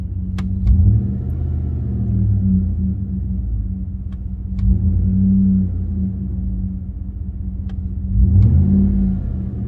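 A 2007–2013 GM Sierra pickup truck engine with a Banks Pedal Monster installed idles with a steady low rumble, briefly revving up at a few points before settling back to a low idle.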